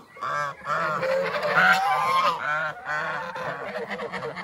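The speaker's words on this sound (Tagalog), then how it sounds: "Ayan, dalawa ating pabo." Loud, repeated gobbling calls from turkeys, several birds overlapping in bursts close by, with no talking.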